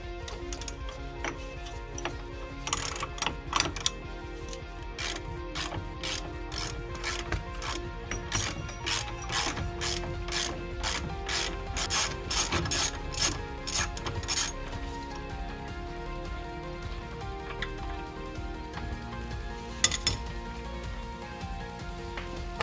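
A ratchet wrench loosens a bolt on a Citroen C5 X7 wheel hub carrier during bushing replacement, a long run of quick, sharp metallic clicks in steady bursts, fairly close but faint, with no talk.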